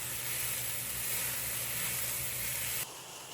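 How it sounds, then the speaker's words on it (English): Leeks, parsnips and carrots sizzle in a pot for an Irish beef stew, a bright, constant hiss that stays even and close before dropping off abruptly near the end. "Now we're going to add our leeks, parsnips, and carrots. And we're going to cook that for a few minutes."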